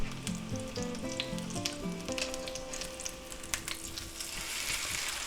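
Parmesan-crusted pork chops fry in a pan, a steady close sizzle with crackling pops and clatters as they are flipped, while background music plays softly in the first couple of seconds.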